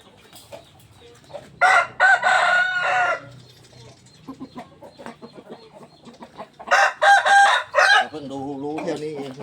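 A rooster crows loudly twice nearby, with low chatter and scattered noises between the crows and some clucking at the end.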